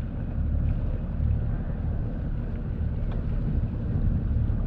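A small sailboat motors out alone, its engine giving a steady low droning rumble mixed with wind buffeting the microphone, continuous and fairly loud with no talk.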